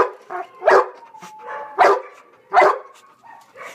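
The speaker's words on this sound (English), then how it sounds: "Is that doggy barking at you?" A dog barks sharply three times at a nearby, irregular pace, with softer yips and whimpers between barks.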